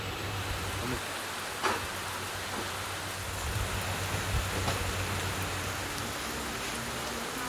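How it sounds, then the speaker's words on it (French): Heavy tropical rain pours steadily on Ko Samui at dusk in a dense, even hiss, with occasional louder drops or knocks standing out against the constant wash. "Et là, il commence à pleuvoir de malade."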